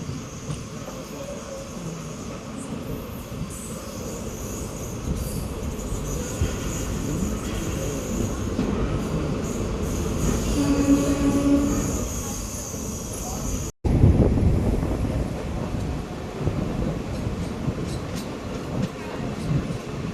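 Passenger train departing Vadiyaram station at night after a one-minute halt, steady rolling rumble and rail noise building slightly, with a brief sharp dropout partway and some faint voices or announcements mixed in.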